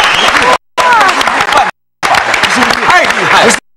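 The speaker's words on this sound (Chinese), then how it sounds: "掌声赶快先鼓励一下" Audience applause follows a card magic trick on a stage show. The clapping sits under prominent talking and is broken by abrupt silent cuts.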